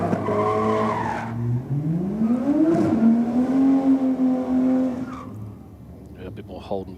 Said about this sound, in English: Holden versus Ford action.